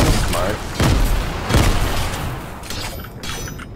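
Grenades go off in a shooter video game as a few heavy, booming blasts with rumbling tails, layered over dense gunfire-like noise, with voices chattering faintly alongside.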